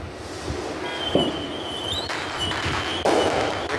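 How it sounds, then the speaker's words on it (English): Small popper fireworks at a Fourth of July display give a rising whistle followed by crackling pops, close by and fairly loud against steady outdoor background noise. "Here comes some more of those little popper fireworks. Whistling and popping."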